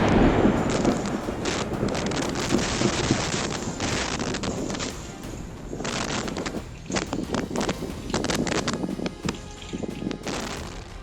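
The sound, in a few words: strong wind gusts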